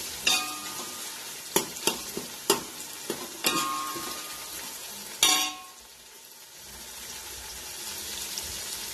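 Chopped tomatoes frying in a pan with a steady sizzle, broken by several sharp metallic clinks and scrapes of a spoon stirring, the sizzle briefly dropping then returning; close and with no talking.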